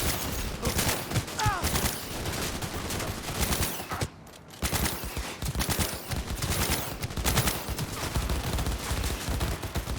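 Sustained fusillade of automatic gunfire in Cyberpunk 2077, dense rapid bursts close and loud, briefly cutting out before resuming with heavy overlapping shots.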